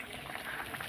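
Water simmers in a pot of dhela fish and eggplant curry, giving a faint, brief, soft bubbling with no voices.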